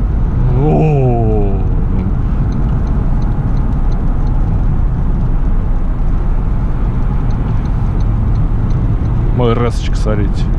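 Toyota Land Cruiser 300 driving on the road, heard as a steady, loud cabin drone of engine and road noise throughout, with brief voices near the start and end.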